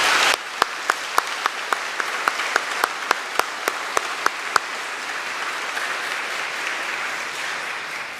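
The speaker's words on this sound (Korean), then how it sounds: "힘찬 박수로 환영해 주시기 바라겠습니다." A church congregation at a Sunday service claps to welcome visiting pastors, an elder and a choir, a dense wash of applause with a dozen sharp, distinct claps standing out near the front.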